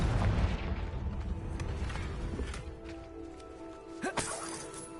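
A Confringo blasting spell explodes in Hogwarts Legacy with a loud, booming burst at the start, followed by a lighter crackle and a sharp pop a few seconds later.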